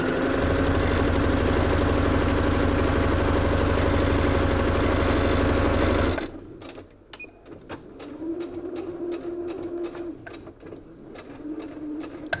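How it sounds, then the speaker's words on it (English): A sewing machine runs a straight stitch on fabric, with its thread looping above the fabric. It makes a loud, steady, rapid mechanical chatter for about six seconds, then stops abruptly, leaving faint handling clicks and a soft intermittent hum. "I'm going to just put a nice straight stitch on here"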